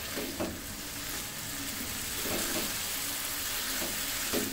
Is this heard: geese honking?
no